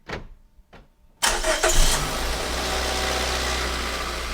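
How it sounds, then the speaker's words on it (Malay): A Perodua Myvi, just after an engine oil change, starts up following two quick clicks: the engine cranks briefly, catches with a loud surge, then settles into a steady, even idle close by. "Okey, kita hidupkan enjin."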